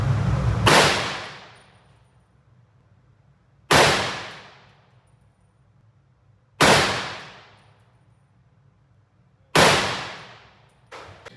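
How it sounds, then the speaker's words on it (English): Four unsuppressed shots from a .308 designated marksman rifle ring out one at a time, each a sharp, loud crack with a long ringing decay, spaced roughly three seconds apart. "And now with the silencer off and removed."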